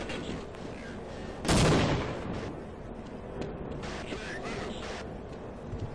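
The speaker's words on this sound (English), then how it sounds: "Throwing grenades at me." A grenade explodes in Half-Life, one loud, broad blast that decays over about half a second, followed by quieter rattling and gunfire-like clatter.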